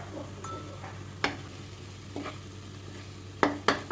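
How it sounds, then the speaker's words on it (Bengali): Spice paste with turmeric, salt, chilli, coriander and cumin powders being stirred in hot oil, a low steady sizzle broken by a few sharp spatula scrapes and clinks, the last ones clustered near the end. "ভালো করে মশলাটাকে কষাবো"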